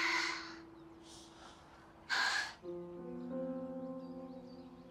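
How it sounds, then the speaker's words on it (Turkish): A few deep, heavy breaths drawn and released close by, with a strong gasping inhale in the middle, as soft sustained music tones play underneath. "Böyle büyük büyük nefes al."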